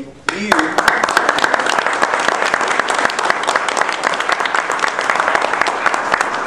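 Sustained applause from an audience at an LPGA press conference, a dense wash of many hands clapping that starts abruptly and continues steadily throughout.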